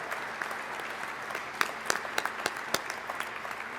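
A crowd at a public remarks event claps for skilled workers, a soft, even patter of applause with a few loud, crisp claps popping out nearby, fading slightly toward the end.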